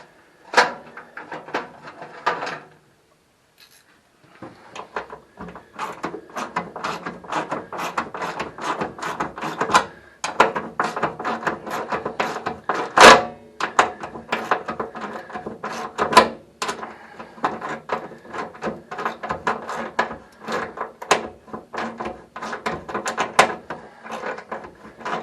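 A wrench works a bolt on a custom Cushman golf cart: a long run of rapid metallic ratchet clicks and clanks, close and fairly loud, with a brief pause near the start and a few sharper knocks.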